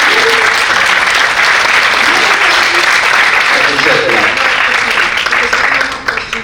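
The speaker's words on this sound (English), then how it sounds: "A round of applause, please." An audience at a panel talk on innovation and economic growth applauds a speaker, a loud dense round of clapping held steady before thinning at the end.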